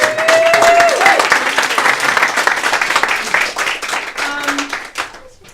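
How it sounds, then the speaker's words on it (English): Audience applause fills a talk event, a dense steady wash of many hands clapping close and loud, with a brief voice tone near the start and a short whistle-like note late, fading at the end. "Give yourselves a round of applause for being here."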